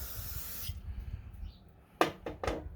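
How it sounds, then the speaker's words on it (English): Carburetor cleaner sprayed onto a lawn mower carburetor float: a long hissing spray at the start, then a pause and three short hissing bursts in quick succession. "Spray this float off a little bit,"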